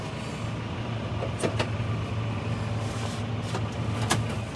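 A steady, low diesel engine rumble from an idling 2016 Fendt 824 Vario tractor (248 hp) close by, constant and unbroken, with faint clicks on top.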